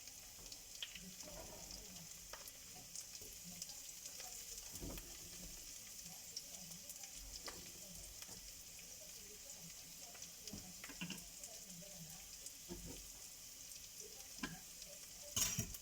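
Kefta meat mixture sizzling in a frying pan while being stirred, a faint continuous hiss with soft scraping and clicking of the utensil against the pan.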